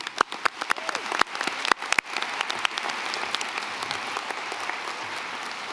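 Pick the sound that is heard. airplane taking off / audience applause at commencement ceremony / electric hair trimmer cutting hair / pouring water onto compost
audience applause at commencement ceremony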